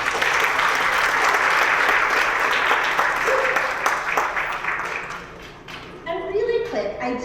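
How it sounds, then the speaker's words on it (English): A school orchestra concert audience gives sustained, full applause that gradually thins and tapers off toward the end, leaving scattered claps, with some speech heard faintly as it fades. "So give yourselves a round of applause."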